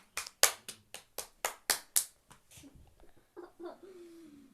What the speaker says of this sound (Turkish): Bir alkış kıza.